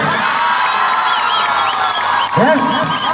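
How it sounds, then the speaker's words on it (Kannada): Students from Mangaluru North being applauded after a Kho-Kho divisional win, a loud crowd of clapping mixed with cheering and children's whoops, steady throughout with a burst of shouts near the end. "ಒಮ್ಮೆ ಅವರಿಗೆ ದೊಡ್ಡ ಚಪ್ಪಾಳೆ ಬರಬೇಕು"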